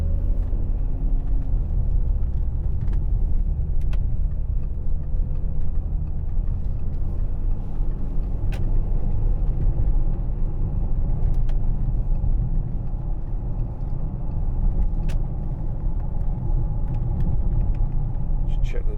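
Steady low road and tyre rumble inside a 2010 Audi Q7 3.0 TDI S line Tiptronic cruising around 70 mph, a constant droning hum throughout with someone talking over it.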